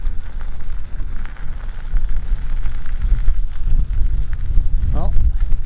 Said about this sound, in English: feels like I'm heading up against the wind